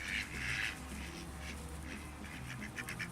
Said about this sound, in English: Since hatching, they've been making baby duck noises.